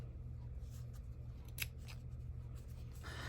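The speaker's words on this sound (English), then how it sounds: "You can also use your scissors." Scissors snip through paper while a small artsy book is being made, a few short crisp cuts over a steady low hum, with no talk.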